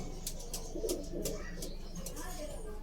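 Pigeon cooing, soft and low, sits under a steady background murmur, with a few faint chirps higher up and some speech nearby; the pigeon is a young 2023-ringed Morris Gordon bird.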